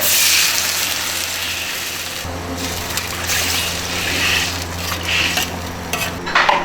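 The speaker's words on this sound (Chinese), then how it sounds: "姜、葱，炒香配料酒，浇水" Ginger and scallion are stir-fried in a hot wok: a loud, continuous sizzle with scraping and stirring, and a deeper hiss that swells partway through, with no one talking.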